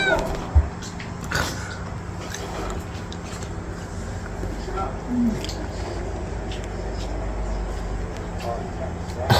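A cat meows nearby with a steady background hum, while a person talks over it.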